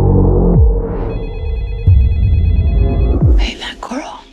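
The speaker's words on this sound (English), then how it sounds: "Hey, baby, your phone is ringing." A telephone rings with a repeating electronic trill that starts about a second in and runs for roughly two seconds, surrounded by dramatic thuds, rumbles and a voice.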